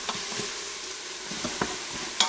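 Onions soften and sizzle on the sauté setting in an Instant Pot and a Kasori pressure cooker, a steady close hiss with a few sharp stirring scrapes and clicks.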